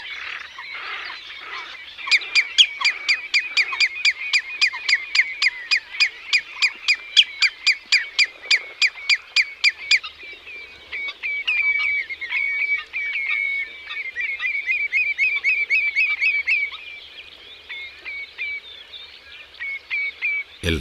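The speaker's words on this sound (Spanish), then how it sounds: "Un pato colorado." Red-crested pochard calling in a wetland amid a chorus of waterbirds: rapid, evenly spaced rasping notes repeated in long bursts, then busier mixed calls, fairly close and loud with no talk.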